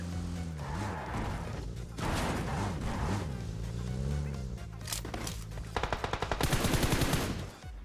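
Gunfire in PUBG Mobile, growing from scattered shots into a rapid, loud automatic burst near the end, mixed with game music and ambient noise.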